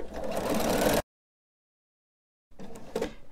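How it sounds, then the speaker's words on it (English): A sewing machine stitches straight lines across a quilt in two short, steady whirring runs, with a second of silence between them. "I'm gonna go ahead and sew my last two straight lines."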